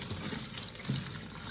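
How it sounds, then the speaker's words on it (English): Running tap water in a sink rinsing glass noodles, a soft, steady stream splashing continuously through the short stretch with no talking. "you wash it in running water."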